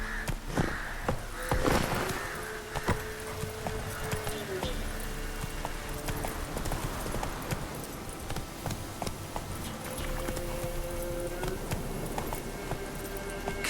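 Roach, Geralt's horse in the video game The Witcher 3, galloping with a steady rolling beat of hooves under a continuous low rumble of game ambience, moderately loud and without clear voices.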